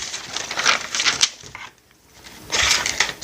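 Scissors cut through paper while making a papercraft dog food can. Crisp, close snipping and rustling comes in bursts, with a short quiet pause midway.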